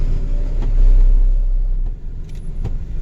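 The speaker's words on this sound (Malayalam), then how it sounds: "അപ്പോൾ നമ്മൾ വീണ്ടും റിവേഴ്സ് എടുത്ത് വീണ്ടും ഫ്രണ്ടിലോട്ട് പോവാണ്." A loaded truck reverses and then moves forward again on the NH66 highway, a close, heavy engine rumble that swells briefly and then settles, with a couple of faint clicks.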